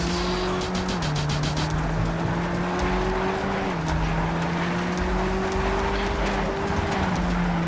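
A car in Cyberpunk 2077 loses grip on an overgrown road, with tires squealing and skidding over a continuous engine whine whose pitch shifts up and down as it slides, loud and close throughout.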